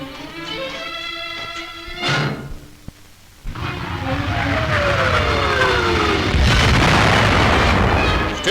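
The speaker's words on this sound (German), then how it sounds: "Störungsfeuer der Sowjets" Heavy booms of Soviet harassing artillery fire in a snowy winter battlefield, a dull explosion followed by rumbling bursts and a broad roar of noise, loud and close, over a steady droning background.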